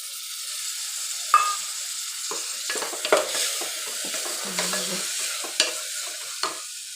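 Tomato fries in a pan under a soft, steady sizzle while a utensil stirs it, giving repeated scraping and clinking strokes at irregular intervals.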